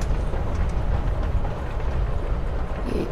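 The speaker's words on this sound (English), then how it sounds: "You're on a freaking train with Rachel freaking Amber." Steady rumbling train ride ambience inside a carriage in the video game Life is Strange: Before the Storm, a continuous dense low roar with faint rhythmic rail clatter, loud and unbroken, with no talk.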